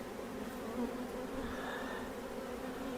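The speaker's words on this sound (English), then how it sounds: "reaching into a hive of tens of thousands of bees" Honey bees buzzing inside an opened hive, a dense, continuous droning hum from a close swarm, steady and fairly quiet with slight swells in pitch.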